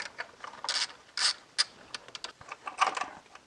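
A ratchet with a 16 mm socket on a six-inch extension works a bolt loose under the intake of a BMW E46, producing a run of quick, close mechanical clicks in uneven bursts.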